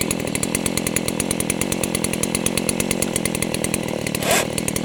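A DeWalt Flexvolt 60V cordless chainsaw runs nearby at a steady, loud buzz with a fast pulsing chain rhythm, and a brief surge near the end.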